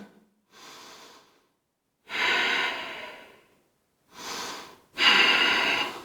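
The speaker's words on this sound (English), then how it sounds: "Remember to breathe." Slow, deep breaths during a yoga hamstring stretch, four audible inhales and exhales spaced by silence, close to the microphone and breathy, with no talking.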